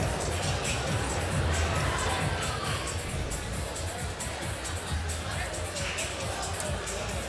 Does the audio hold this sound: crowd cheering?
yes